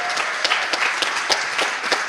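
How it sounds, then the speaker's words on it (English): Audience at a conference breaks into a round of applause, a dense wash of many hands clapping close and steady with no speech over it. "Give a round of applause to David."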